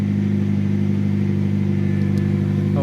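A turbocharged Toyota Corolla AE92 hatch idles nearby with its power steering running, giving a steady, close droning hum that holds even and unbroken throughout.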